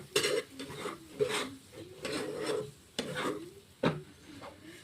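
Food being stirred and fried in a pan while it is sautéed, a spatula scraping and rubbing against metal in uneven strokes with sharp clinks, close and moderately loud, no talking.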